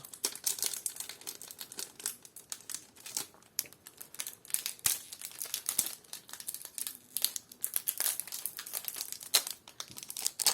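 Plastic packaging around Pokémon card sleeves from an Eevee Elite Trainer Box is pulled open, making continuous close crinkling and crackling with small tearing sounds throughout.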